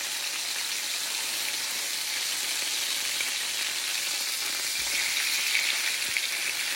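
Chicken fries in a pan on low heat with squash and red peppers, a steady close hiss and sizzle that stays even throughout, with no voices over it.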